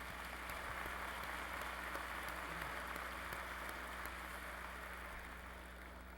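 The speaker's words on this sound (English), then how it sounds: "Let's give them all a round of applause" Applause fills a large hall at a university spring commencement, a dense, distant wash of many hands clapping steadily and slowly fading toward the end.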